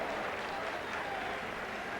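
Rugby match crowd, France versus Great Britain in 1991, applauding and calling out toward the linesman as a steady wash of clapping and voices that fills the whole moment without letup.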